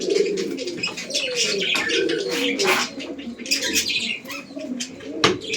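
Madras pigeons, a pair with a weak female, coo steadily up close, mixed with soft chirps and brief wing flutters throughout, with no talking.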